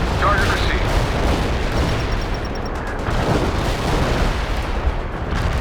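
Artillery fire in World in Conflict: a dense, continuous rumble of booms and blasts, loud and sustained, with radio-style voices talking over it.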